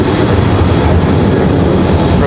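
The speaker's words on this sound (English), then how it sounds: "First 737 takeoff" A Boeing 737 takes off at Charlotte Douglas International Airport with a loud, dense, steady engine roar filling the whole span. A faint voice may sit under the noise.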